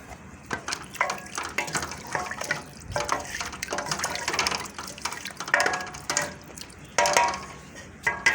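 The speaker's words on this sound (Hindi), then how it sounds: "अब पानी डालने लगी जिसमें 1 मग्गा पानी दें।" Water splashing and pouring into a pot of goat stock in uneven bursts, with some clinking and stirring sounds close by.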